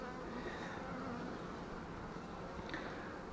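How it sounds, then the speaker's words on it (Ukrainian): A dense, continuous hum of calm, busy honey bees working at crowded apiary hives on a warm spring day after prolonged rain, steady and unbroken, with no talking. "Бджоли спокійні, зайняті."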